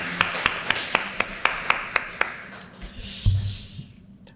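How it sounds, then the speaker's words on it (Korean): A church congregation gives a short round of applause for the choir, about nine sharp, evenly spaced claps early on that then fade into a softer, scattered patter and room noise. "우리 박수 한번 합시다."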